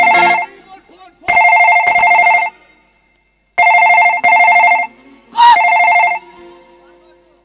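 A telephone rings in loud bursts, three trilling rings separated by pauses, with a person speaking briefly between them.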